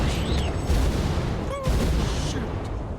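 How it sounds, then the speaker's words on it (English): Continuous dense rumbling explosions and booms in SpongeBob SquarePants: Titans of the Tide, loud and close, with brief whistling tones layered over the barrage. "All I can hear is explosions and Patrick just screaming in pain"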